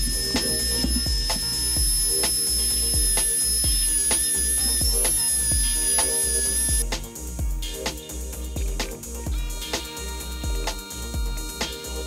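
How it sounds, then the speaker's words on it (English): A high-pitched rotary tool with a diamond bit whines and grinds steadily, with repeated tapping and clicking throughout, loud and close, no one speaking. "Sounds like a dentist drill. Got a little diamond bit in there."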